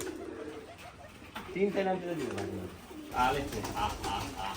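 Pigeons on a farm of about forty pairs coo in soft, repeated bubbling calls, close by, mixed with a person speaking over them.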